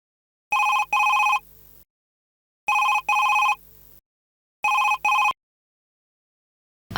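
A telephone rings in three separate bursts, each a pair of loud, bright electronic trills followed by a fainter tail, with silent gaps between them.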